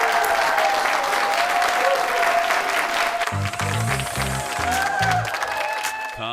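A television studio audience claps steadily, a dense wash of applause filling the whole stretch with a low rumble of crowd noise and some thuds partway through.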